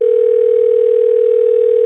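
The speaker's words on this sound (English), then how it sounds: "Incoming call from your father. Would you like to accept this call?" A steady electronic phone ringing tone for an incoming call, a single unbroken pitch held loud and close for the whole stretch, alone with no talk.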